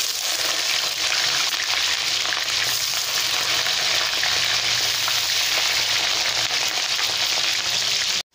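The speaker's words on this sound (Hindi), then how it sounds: "हमारी कढ़ाई गरम हो गई है, सरसों का तेल गरम हो गया है, अब तेज पत्ता 2 ठे डाल रहे हैं। 2 कटे हुए प्याज पतले पतले डाल रहे हैं फोरन में।" Thinly sliced onions with bay leaves frying in hot mustard oil in a kadhai, a steady, loud, dense sizzle and crackle that holds evenly throughout, with no talking.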